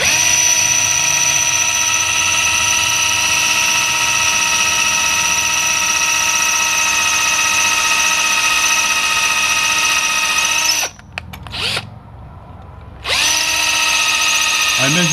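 A power drill bores through a bolt while repairing a broken shift lever, a loud steady high whine running for about eleven seconds, then briefly cutting out with rattling before starting again.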